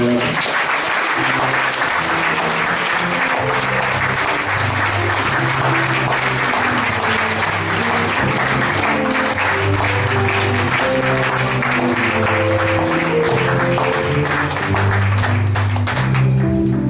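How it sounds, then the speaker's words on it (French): A church congregation claps and cheers for the Lord in steady, loud, sustained applause lasting throughout, dense and continuous from start to finish. "Que le peuple de Dieu acclame le Seigneur"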